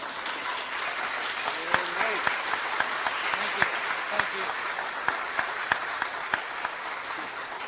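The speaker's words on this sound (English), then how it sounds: "So I'd like to give a round of applause to a real warrior for this cause." An audience applauds at a talk on crack cocaine, the CIA and prisons, a steady wash of clapping with a few sharper individual claps standing out, moderately near and sustained throughout with faint voices mixed in.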